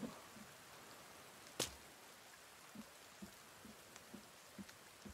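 Light rain patters in the forest survival video game The Forest, a soft steady hiss at low level with a few scattered drop taps and one sharp click, no talk.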